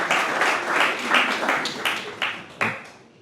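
Applause from a conference room audience at a space-industry round table, a few seconds of scattered, uneven clapping with individual claps standing out before it trails off.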